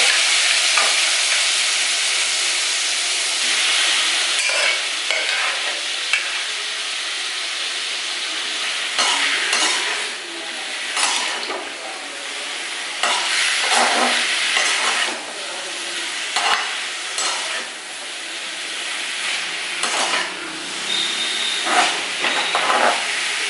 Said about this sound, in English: I'm just going to take this and fry the carrots in this.